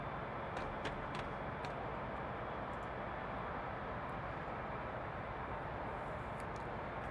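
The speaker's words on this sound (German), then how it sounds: "Ich würde aber jetzt doch gerne das Flugzeug nochmal starten." An aircraft engine runs steadily in the video game Carrier Command 2, a constant broadband roar with faint clicks above it and no change in level throughout.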